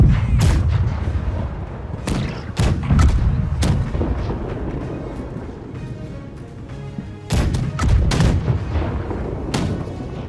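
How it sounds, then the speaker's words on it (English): Ship cannons in the game Blackwake boom repeatedly in a loud volley, heavy low blasts scattered over a rumbling background, with a short lull before another round. "Fire the cannons, please."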